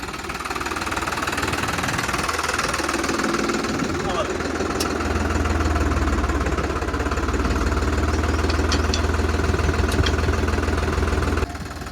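A tractor engine runs at a steady idle while a trailer is hitched to it on a farm, its low rumble constant and growing fuller partway through, with voices talking over it.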